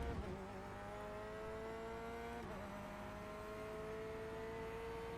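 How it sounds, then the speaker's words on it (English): Corvette C8.R race car engine in the iRacing simulator, a loud continuous drone with steadily rising pitch as it accelerates, a brief shift-like dip midway, then climbing again with no talk over it. "the engine sound kind of gets you get used to it for sure"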